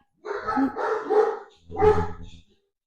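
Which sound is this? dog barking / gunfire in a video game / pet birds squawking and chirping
dog barking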